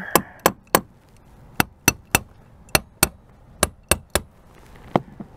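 Sharp, loud hammer blows strike a boat's mast, about a dozen close metallic knocks in an uneven rhythm with short pauses between groups, and no voices.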